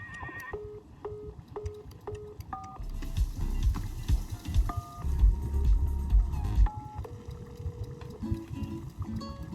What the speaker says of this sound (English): Like phone ringing noises in the jukebox?